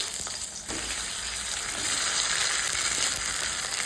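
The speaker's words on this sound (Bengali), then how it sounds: "এই গরম তেলের মধ্যে টমেটোগুলোকে দিয়ে দেবো" Tomatoes go into hot oil for a cauliflower bharta and fry with a steady, close, bright sizzle that swells slightly after a brief dip at the start, with light stirring underneath.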